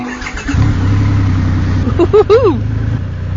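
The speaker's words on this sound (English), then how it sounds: "Its beefy, beast-like status with a big fat engine means it can only be the Triumph Rocket 3." Triumph Rocket 3 motorcycle with a big engine starting up and idling with a deep steady rumble, then blipped through a few sharp rising revs, close and loud.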